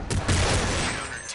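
Gunfire in Counter-Strike 1.6 on the cs_assault map: a loud burst of shots with booming reports, then a decaying tail, brief and close.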